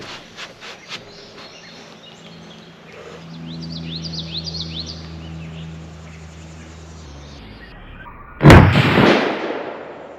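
A single loud rifle shot cracks near the end of a quiet outdoor stretch while a UUQ 3-9x32 AOEG rifle scope is tested, preceded by faint handling clicks and a low hum, and followed by a brief echo.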